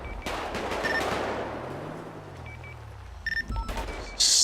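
Gunfire in GTA V on the streets of Los Santos, with sharp shots scattered through a steady din of traffic and engine noise, and a louder burst near the end.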